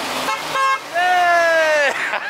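Truck horn sounds up close at a roadside, with an ugly nasal tone. A short toot comes first, then a longer sustained honk of about a second, and a voice can be heard around it.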